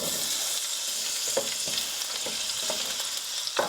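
Chopped onion sautés in olive oil at the start of a vegetable stew, a steady close sizzle with soft stirring clicks and scrapes scattered through, no talking.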